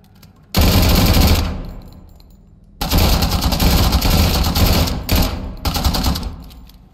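Automatic gunfire in an SCP horror video game, loud rapid bursts of shots in two long strings separated by a short lull, close and dense, with no talk.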